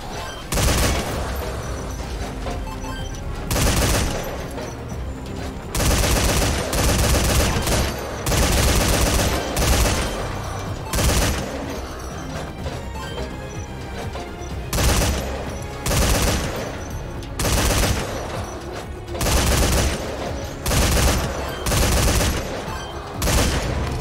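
Rapid bursts of automatic machine-gun fire in the video game Metal Gear Survive crackle again and again with short pauses between volleys, loud and sustained, like a game firefight.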